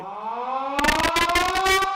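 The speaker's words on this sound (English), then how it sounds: "they've brought the siren from the high school over here" A loud school siren wails with a steady, rising tone inside a basketball gym during a game, and a rapid pulsing burst cuts in over it halfway through.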